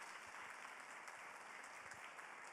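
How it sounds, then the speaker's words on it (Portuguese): Steady applause from a seminar audience, continuous and even, faint and distant throughout with no talk. "eu queria que vocês agora aplaudissem calorosamente os 4 grupos"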